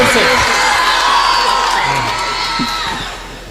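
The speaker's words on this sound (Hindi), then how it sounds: "अभी ताली बजाओ जोर से" Audience at an All India Mushaira poetry recital claps and cheers loudly with whoops in a dense, continuous wash that eases slightly toward the end.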